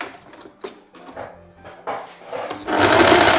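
A sewing machine stitching a fabric band on a wrap blouse, starting with short hesitant bursts and then running in a steady, louder whir close by.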